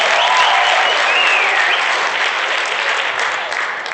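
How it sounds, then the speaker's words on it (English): A crowd at an Africa Day celebration breaks into loud continuous applause, thick and close, with faint cheering voices mixed in and a gentle fade near the end. "Give him another round of applause."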